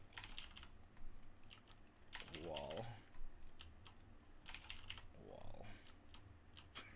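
Rapid, quiet keyboard typing in bursts of clicky keystrokes, faint and close, with brief pauses and a short stretch of talk in between.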